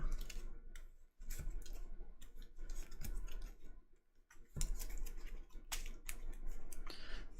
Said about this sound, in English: Alright, shuffle everything up.